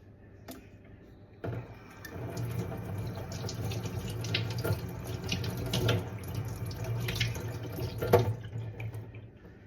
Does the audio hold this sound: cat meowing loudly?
no